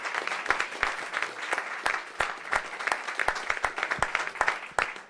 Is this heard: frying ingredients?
no